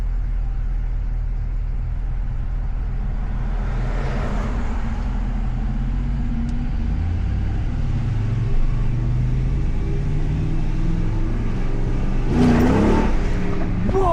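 A Jeep SRT8's V8 engine drones loud and steady from inside the cabin, pulling hard under acceleration with a deep sustained roar, briefly swelling louder near the end.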